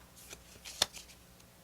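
Tarot cards being shuffled by hand, a soft papery riffle of light brushing strokes with one sharper slap in the middle, quiet and close with no speech.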